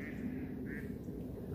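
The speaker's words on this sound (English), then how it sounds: "Where the quacking coming from?" A duck quacks at a bird viewing preserve, a few soft, nasal calls at moderate distance over steady outdoor background noise.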